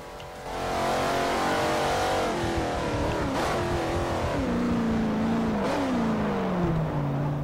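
A race car engine in Forza Motosport 4 drones and revs continuously at high pitch, rising and falling with gear changes, loud and steady with no talking.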